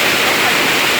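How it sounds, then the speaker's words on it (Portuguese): Loud, steady broadband rush of a waterfall filling the whole moment, close and continuous with no clear breaks. "Essa cachoeira maravilhosa."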